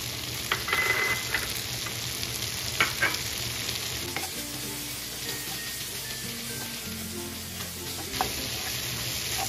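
Pre-cooked ham seasoned with black pepper sizzles steadily in a pan while a utensil stirs it, with occasional scraping clicks against the pan.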